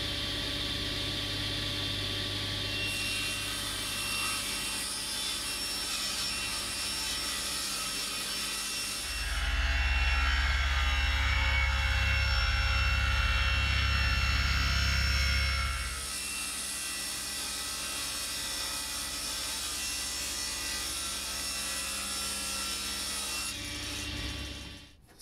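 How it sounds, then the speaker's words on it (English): A table saw rips wooden boards down to width, a continuous loud whine with a heavier, deeper cutting stretch in the middle before the blade runs free again. "so I'll run them over the saw, rip them down"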